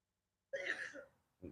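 A single close sneeze bursts out sharply in a quiet outdoor yoga class in a park and is followed by a short, softer breathy trailing sound.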